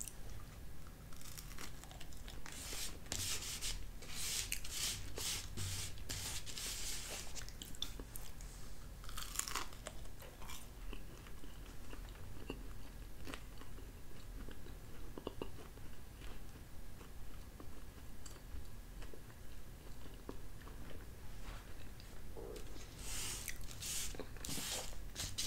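Toasted Thomas' cinnamon raisin mini bagel being chewed up close, steady crunchy bites and mastication continuing for the whole stretch with no talking.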